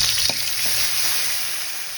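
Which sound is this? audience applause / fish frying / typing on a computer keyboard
fish frying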